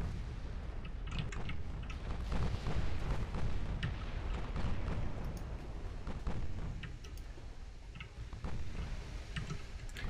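Heavy warship broadside gunfire from a naval battle in Ultimate Admiral Dreadnoughts, a dense, sustained rumble of booming cannon blasts and crackling impacts rolling on without pause.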